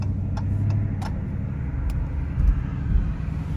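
A Dodge Demon 170 rumbles low and steady while downshifting as it slows for a turn, with a couple of brief throaty swells near the end.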